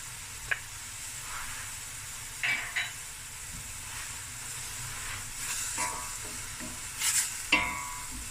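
Onions, garlic and ginger sizzle softly in a pot for a crayfish curry, with a faint steady hiss broken by several short scraping stirs and clinks, fairly quiet with no talking.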